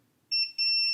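Digital multimeter in continuity mode testing fuses on a PS4 Slim board, sounding a clear high-pitched electronic tone that starts abruptly, dips briefly, then holds steady and loud; no talking.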